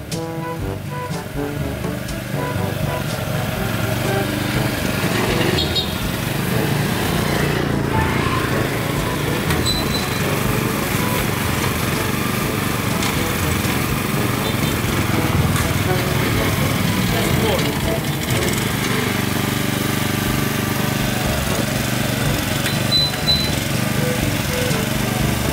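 The engine of an ATEX Japanese three-wheeled cargo carrier rated for a 300 kg load runs steadily, with a continuous close hum that never lets up, while someone talks over it.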